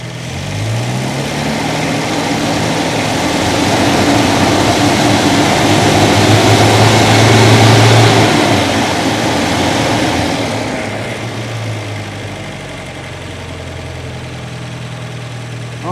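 An MGA 1600 engine that runs badly above 2500 RPM revs hard and loud, rising and holding a strained roar before easing back to a lower, steadier run.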